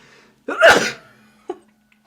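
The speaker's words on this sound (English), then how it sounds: "I'm gonna sneeze." A single loud sneeze bursts out close by, followed a moment later by a brief sniff or small exhale in a quiet room.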